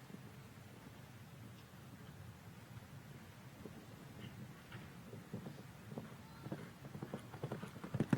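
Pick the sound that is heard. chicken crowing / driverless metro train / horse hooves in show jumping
horse hooves in show jumping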